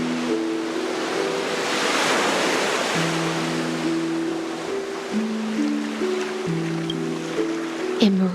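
Broad rushing ocean surf in the Honkai: Star Rail game, a steady wash of waves that swells and recedes beneath sustained low musical tones, with no talking over it.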